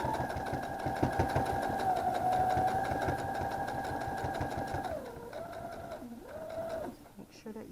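A sewing machine runs steadily while back tacking on a quilted pillow, its motor whirring and needle chattering close by, then slows and stops in short bursts near the end.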